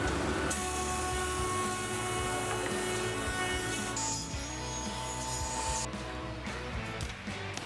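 A jointer and planer square glued-up wooden boards to final dimensions for an Adirondack chair, making a loud, steady machine whine and roar whose pitch shifts as each board passes through the cutters.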